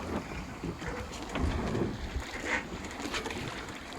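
A sailboat whose sails flap after losing wind, heard as irregular rustling and fluttering under wind noise at sea, with a few soft knocks and no clear talk.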